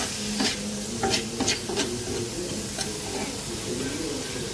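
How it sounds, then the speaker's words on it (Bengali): Pointed gourd seeds and green chillies fry in oil in a pan with a steady sizzle. A few sharp stirring scrapes stand out early on, and no one speaks. "ভালো করে ভাজবে"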